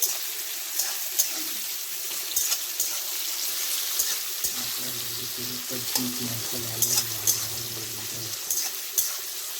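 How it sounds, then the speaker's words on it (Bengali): Onions frying in oil for biryani beresta, a constant close sizzle with scattered crackles and stirring clatter, and a faint low hum in the middle stretch. "বেরেস্তার জন্য পেঁয়াজটা লাল লাল করে ভাজা হোক"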